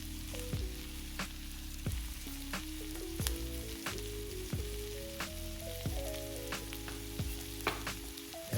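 Rosemary and thyme sizzle in melted butter with potatoes in a pan, a steady close frying crackle with occasional sharp pops and faint stirring clinks throughout.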